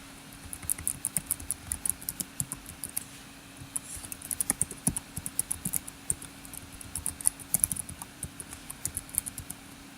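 Fingers type a web address on a computer keyboard, quick light clicking keystrokes in irregular bursts, close and fairly quiet, with no voices.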